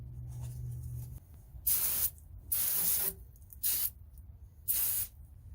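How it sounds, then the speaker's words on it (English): Brake cleaner sprayed onto a 2004 Ram pickup's rear axle in four short hissing bursts, each about half a second, separated by quiet pauses with faint background rumble. "Avoid getting the brake cleaner inside."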